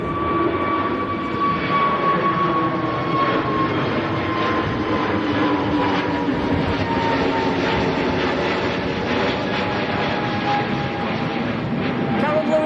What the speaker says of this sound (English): A321neo of KLM to Amsterdam.